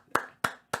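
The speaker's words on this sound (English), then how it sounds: "Round of applause for myself right there." One person claps three times in slow, evenly spaced, crisp claps, heard close and alone against quiet.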